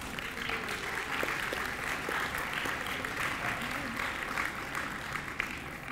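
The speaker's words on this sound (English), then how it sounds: "give yourselves a round of applause." Audience applause at a dual enrollment graduation ceremony, steady dense clapping from a large indoor crowd sustained for several seconds, fairly even in level with a few sharper claps standing out.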